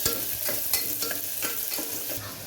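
Onions sautéing in a pan for nombu kanji, stirred until golden brown; a steady sizzle with repeated scraping strokes of the spoon, close and clear, no voices.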